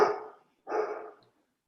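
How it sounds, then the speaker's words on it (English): A pet dog barks twice in quick succession, two short loud bursts close by, alone with no talk over them. "I'm sorry, that's my dog."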